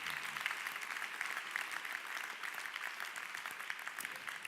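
Audience applause at an awards ceremony for a startup prize winner, a steady, dense wash of clapping held at moderate, even loudness throughout with no voices rising above it.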